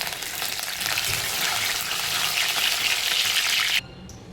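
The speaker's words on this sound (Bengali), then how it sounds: "এই তেলে আমি পেঁয়াজটা ভেজে নিয়েছিলাম। এবার তেল গরম হয়ে গেছে, এর মধ্যে আমি যে ফোড়নটা, সেই ফোড়নটাকে দেবো" Curry leaves and tempering spices sizzling in hot oil left from frying onions, a loud dense crackling hiss that cuts off abruptly near the end.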